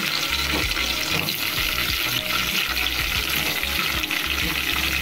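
Tomato pieces for cucumber chutney sizzle in a hot pan, a loud, dense, continuous hiss and crackle that runs steadily throughout with no talk.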